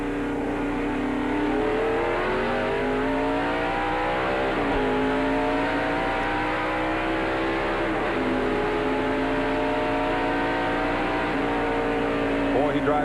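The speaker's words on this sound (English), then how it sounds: "Let's stay with Jeff Gordon and listen to this restart." NASCAR stock cars at Dover in 1993 roar through a restart, a dense, loud wall of revving engines rising and falling in pitch as the pack accelerates, with no pause.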